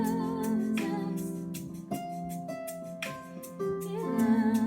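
One-finger four-note piano run in F over sustained chords, with single notes stepping through in turn and ringing over a soft background.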